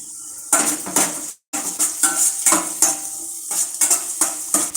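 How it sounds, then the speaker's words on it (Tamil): A spatula scrapes and clanks against a pan as two finely chopped onions are sautéed in a little oil, in repeated quick strokes with a brief pause. No one speaks. "கொஞ்சமாக எண்ணெய் ஊற்றி ஒரு ரெண்டு வெங்காயம் நைஸாக நறுக்கிட்டு இப்போது வதக்கிட்டுருக்கோம்"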